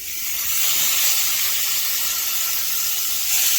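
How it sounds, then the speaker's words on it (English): Bacon sizzles loudly in a hot pan as it is flipped, a dense continuous hiss that holds steady, close to the listener, with no talk over it. "Now we're going to flip our bacon"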